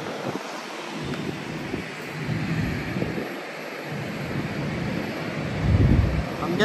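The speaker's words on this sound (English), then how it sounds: "Hopefully the wind is not too noisy." Wind buffets the microphone on an outdoor observation deck at Haneda Airport Terminal 3, a steady, loud low rumble with gusts that rise and fall and grow stronger toward the end.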